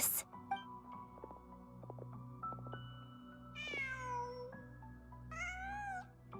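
A cat in a video game meows twice in clear, rising-then-falling calls over a quiet ambient hum and soft clicks, with no talking.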